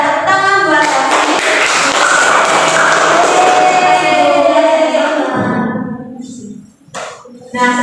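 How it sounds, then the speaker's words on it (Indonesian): Pupils in a classroom during a teaching practice session clap together with voices mixed in, a loud, dense burst that cuts off sharply, followed by a few scattered sounds. "Tepuk tangan buat kami."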